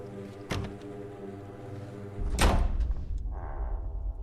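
A door opens in a horror video game, a heavy low thud and rumbling slide over a steady background drone, loud and close, with a brief sharp transient earlier and a quieter tonal hum afterward.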